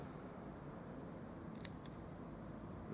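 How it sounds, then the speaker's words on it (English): Scissors trimming paper for a Stampin' Up card, two quick faint snips close together against a quiet background hiss. "And I'll just trim that down a little bit more so it looks similar to the other side."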